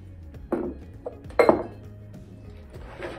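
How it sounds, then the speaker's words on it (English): Ice cubes clink and clatter into a margarita glass in a few distinct bursts, the loudest around the middle, with a quieter rattle near the end and no speech over it. "we're going to fill the glass with ice"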